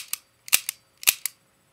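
An HFC M190 airsoft pistol dry-fired up close gives two crisp snapping pairs, each a light click followed by a sharper snap, about half a second apart.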